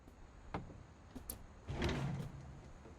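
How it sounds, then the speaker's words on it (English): A secret door slides open in the video game What Remains of Edith Finch, a faint mechanical scrape and rumble with a few soft knocks before it, quiet and without talk. "Now Yo, secret doors?"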